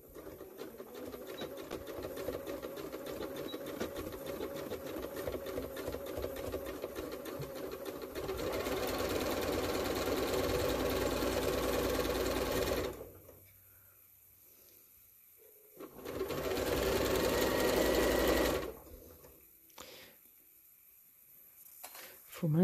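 Sewing machine stitching a fabric snood, a close, steady rapid whir running continuously for a long stretch, stopping, then resuming for a short second burst before going quiet.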